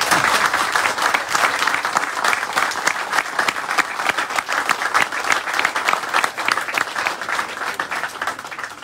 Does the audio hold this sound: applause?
yes